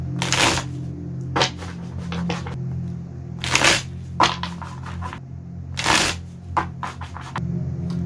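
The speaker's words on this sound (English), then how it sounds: "Let me shuffle some more." Tarot cards being shuffled in bursts: several quick riffling and slapping sequences separated by short pauses, close and fairly crisp, over a low background hum, with no talk.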